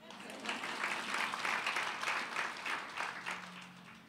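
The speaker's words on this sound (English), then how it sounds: "Clap your hands." A church congregation claps hands together at a women's conference session, a dense, sustained patter of many hands filling the room, with a voice briefly heard over it near the end.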